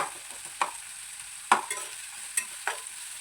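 Onions soften in a pan for a kadala curry, with a soft, steady sizzle broken by several sharp scrapes as they are stirred.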